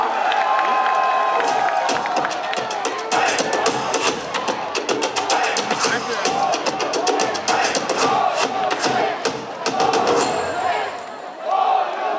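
A festival crowd at an outdoor stage event in Bonghwa cheers, whoops and claps loudly and continuously to welcome a trot singer, with dense overlapping shouts and applause throughout.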